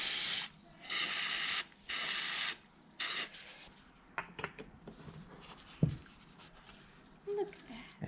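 An aerosol spray can hisses in three short, loud bursts onto engine rocker parts from a 1965 Land Cruiser F135 motor during a rebuild, followed by faint scraping and clicking handling sounds.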